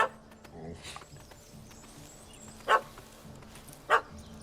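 A dog barks in The Witcher 3 video game: two sharp, fairly loud barks spaced about a second apart over a quiet ambient background, with a few faint earlier sounds.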